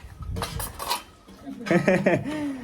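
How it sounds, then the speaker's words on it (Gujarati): Two women scrub dishes by hand at home. Steel pots and cutlery clink and clatter close by in quick clusters, while a voice talks over the later clatter. "મમ્મી અને મનીષા બે વાસણ ઉટકે છે"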